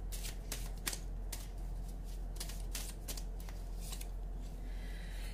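Tarot cards are shuffled and drawn from a pile, giving a series of crisp, close riffling flicks and snaps in bursts against a quiet background with no speech.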